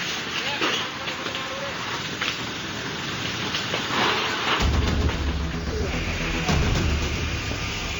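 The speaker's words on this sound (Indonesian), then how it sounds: "Seperti inilah kobaran api saat membakar 7 unit lapak pedagang" Dense crackling and popping of a large fire burning close by as it consumes seven market vendor stalls in Gianyar, Bali, a low rumbling roar joining partway through and continuing to the end.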